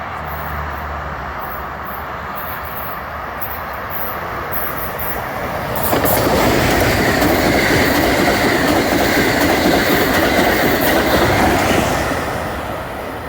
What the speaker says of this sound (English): Here comes the Acelas.